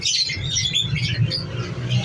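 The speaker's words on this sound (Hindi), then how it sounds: "बहुत जबरदस्त पैरट है।" A parrot at a pet market squawks and chatters in harsh, scratchy bursts close by, continuous over a low background rumble.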